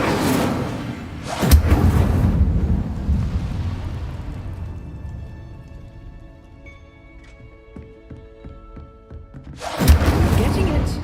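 Fire spell cast in Hogwarts Legacy: a loud booming whoosh of flame bursts out, trails off into a fading rumble with faint magical tones, then a second heavy blast hits near the end.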